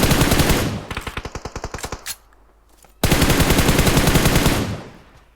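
Automatic gunfire in a mobile shooter game played on an iPad Mini 5, with loud rapid bursts, a rhythmic string of separate shots, a short pause, then another sustained volley.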